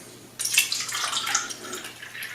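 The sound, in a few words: Kangen water being poured into tea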